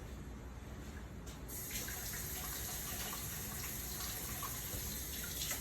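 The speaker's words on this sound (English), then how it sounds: "I'm gonna wash my hands." Tap water runs steadily into a sink for hand washing in a home kitchen, a continuous close hiss that grows fuller and louder after the first second and a half, with no talking.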